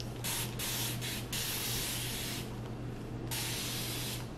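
Spray bottle misting water onto hair, a series of close, hissing spritzes in quick bursts with short gaps between them.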